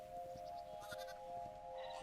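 A sheep bleats in the block-building game Hytale, a few short, faint calls over a quiet steady tone.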